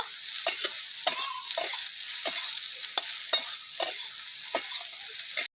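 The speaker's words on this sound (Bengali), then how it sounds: "সয়াবিনটা আমার ভাজা হয়ে গেছে লাল লাল করে ভেজে নিয়েছি" Soybean chunks stir-frying in a pan with turmeric and salt, a steady close sizzle broken by repeated sharp scrapes of the spatula at an uneven rhythm, with no voices.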